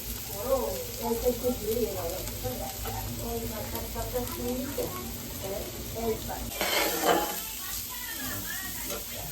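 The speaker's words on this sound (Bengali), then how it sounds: "এই গাজরটাকে একটু হালকা সটে করে নেবো" Grated carrot lightly sautéed in a pan as filling for chicken rolls, a steady soft sizzle with stirring scrapes throughout and a brief louder hiss near the end, with someone talking over it.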